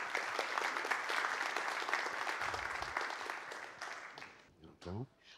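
A conference audience gives a round of applause for a speaker at a Southeast European internet networking meeting. The dense clapping fades over several seconds and a voice speaks briefly at the end.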